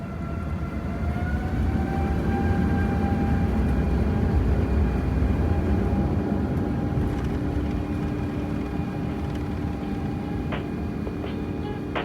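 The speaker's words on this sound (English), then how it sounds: "we push back early and line up for takeoff a minute after our scheduled departure" Emirates Airbus A350 jetliner pushing back and taxiing to line up for takeoff, a steady loud engine roar with rising and falling turbine whines throughout, heard from inside the cabin.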